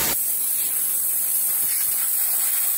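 Wax and grease remover sprayed from a can onto a car panel during dent repair, a steady close hiss that starts at once and runs unbroken to the end.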